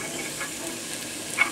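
Onion frying in a pan on a home stove, a steady soft sizzle and hiss running throughout with faint stirring, alone and close, with a small louder crackle near the end.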